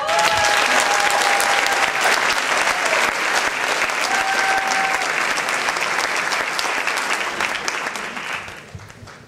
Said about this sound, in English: please join me in giving a round of applause to Principal Chuck Flores.